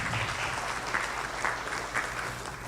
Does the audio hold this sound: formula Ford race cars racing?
no